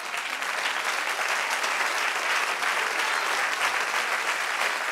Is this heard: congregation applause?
yes